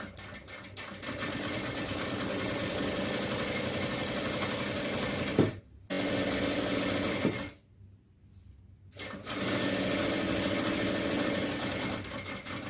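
Domestic sewing machine stitching a seam in nighty fabric during joining practice, a steady mechanical whirring run that stops briefly twice, the longer pause near the middle, then resumes steadily; no talking.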